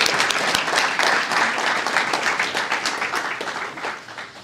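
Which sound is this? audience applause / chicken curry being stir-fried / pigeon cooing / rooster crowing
audience applause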